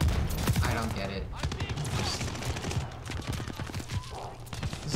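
Call of Duty Vanguard gunfire, a continuous rattle of rapid shots with dense crackling bursts running the whole way through, loud and close, mixed with other game noise.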